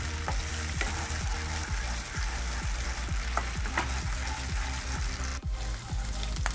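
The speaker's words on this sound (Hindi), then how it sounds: "इसे दोस्तों हम लो मीडियम फ्लेम पर धीरे धीरे फ्राई करते रहेंगे" Aloe vera gel for halwa frying slowly in a pan over a low-medium flame, giving a steady continuous sizzle with regular scraping stir strokes roughly every half second, close and even throughout.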